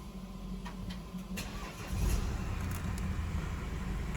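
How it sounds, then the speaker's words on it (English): A Mercedes-Benz GLC 220d 4MATIC Coupe diesel engine cold starts close by: a short cranking whir, then the engine catches at about two seconds and settles into a loud, steady rumbling idle with no voices. "cold start engine"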